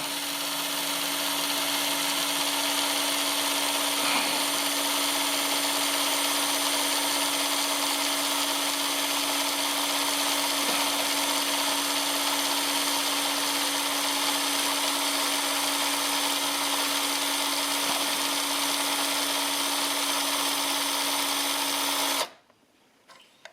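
A motorcycle oil pump from a Yamaha RZ350 restoration runs on a bench test, giving a steady, close mechanical whir with a constant tone that holds for about twenty seconds before cutting off abruptly.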